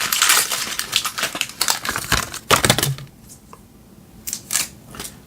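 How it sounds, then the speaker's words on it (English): An HP print cartridge for a DeskJet 4355 all-in-one printer is pulled from its plastic packaging, giving close, loud crinkling and tearing bursts over about three seconds, then a few fainter rustles. "Remove the print cartridge from its packaging."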